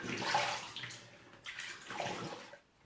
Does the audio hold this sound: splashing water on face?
yes